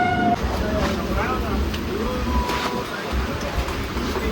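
A special weekly train to Ujjain rolls into a busy Mumbai station with a steady, loud rumble and rattle of carriages, backed by a hum of crowd voices and brief horn-like tones near the start.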